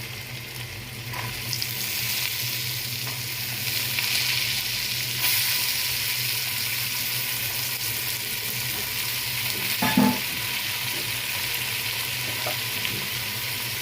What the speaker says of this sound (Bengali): সামান্য, হালকা লালচে করে আমি এক এক করে সবজিগুলো সব দিয়ে দিব।